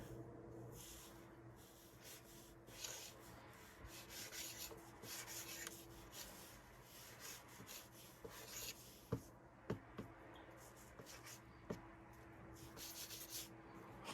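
A Montana Cans Bold 3mm chisel-tip marker writing on a small metal surface, with a steady, close scratchy rubbing that continues throughout and is broken by a few brief louder taps toward the end; nobody speaks.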